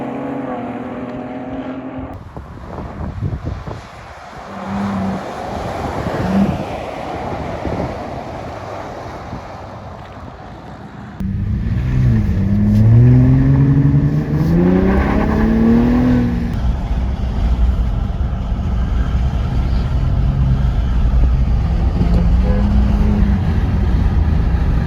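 Ford Bronco Raptor and F150 Raptor trucks accelerating, loud engine roar rising in pitch as they pull away, with a second heavier surge of revving engine noise filling the latter half.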